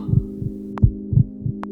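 Heartbeat sound effect, a slow regular lub-dub thump repeating over a low steady hum, with a couple of faint airy swells between beats.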